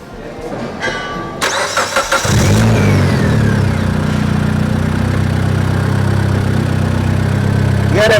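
A turbocharged Mitsubishi Lancer EX cranks briefly, fires up and revs, then settles into a loud, steady run with a whine sweeping upward. Before the start there is a short scuffle of activity.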